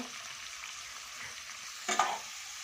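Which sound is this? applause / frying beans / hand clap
frying beans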